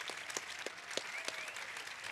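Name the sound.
audience applause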